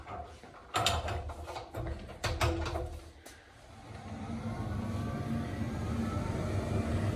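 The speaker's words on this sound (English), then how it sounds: "if they lose the power, you're going to have to use the manual crank, which is right there" The hand crank of the ventilation system in a 36-person Swiss bomb shelter beneath an apartment building is turned, giving several loud ratcheting clicks before settling into a steady mechanical whir, close and clear.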